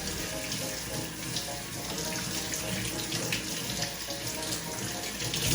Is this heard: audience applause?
no